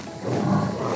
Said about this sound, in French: Il est tout à fait capable de rugir, comme le lion ou le léopard, le jaguar.